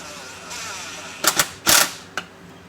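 Ratchet wrench tightening bolts to torque spec during a car build, heard as a few sharp close clicking bursts of the pawl after a brief low rustle, with no talk.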